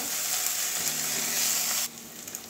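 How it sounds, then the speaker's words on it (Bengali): Sliced onions and slit green chillies fry in hot oil in a pan, giving a loud steady sizzle that drops off abruptly near the end as the heat settles or the pan is moved. "পেঁয়াজটা আমার ভাজা হয়ে যাচ্ছে অনেকটাই"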